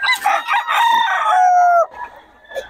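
A rooster crows at a market in Bocaue, one long, loud, close call that trails off, followed by quieter market background.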